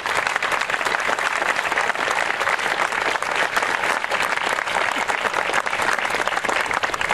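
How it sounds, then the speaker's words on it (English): Sustained, dense applause from an audience honouring a sculptor at the unveiling of a wooden statue, steady and full for the whole stretch with no break. "a round of applause. For him."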